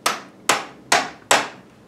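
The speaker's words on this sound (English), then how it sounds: "then you tap with the hammer just a little bit" Four sharp hammer taps at an even, unhurried pace on a wooden toy train wheel clamped in a drill chuck, each a bright close knock with a short ringing decay, with no talking.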